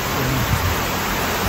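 Heavy rain pours down in a steady, close, full hiss with no breaks.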